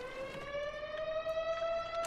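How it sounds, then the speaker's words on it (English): A noonday emergency tornado siren wails just outside a window, a steady rising tone with strong harmonics, fairly loud and continuous, with no talk over it. "It's the emergency siren, so if we have a tornado in the area."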